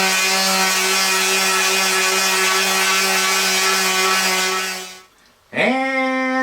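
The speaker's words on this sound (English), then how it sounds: "to give the entire thing a good sanding" A power sander hums steadily against a wooden Roubo book stand, its loud tonal whine holding for several seconds, cutting out briefly, then spinning back up.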